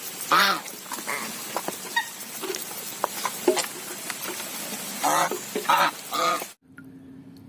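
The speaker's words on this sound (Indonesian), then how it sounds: "Angsa." A goose honks in a children's animal-cleaning game, with several nasal harmonic calls in separate bursts among small clicks and pattering effects. The sound cuts off abruptly near the end.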